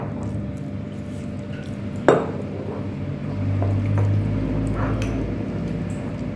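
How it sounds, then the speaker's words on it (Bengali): Water trickles steadily into a raw jackfruit batter being mixed by hand, with soft wet squishing and one sharp clink of a utensil against the bowl. "জল দিচ্ছি, একটা ব্যাটার বানানো হবে।"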